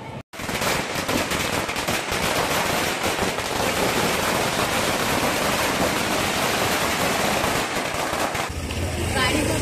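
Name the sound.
firecrackers bursting for Ganpati arrival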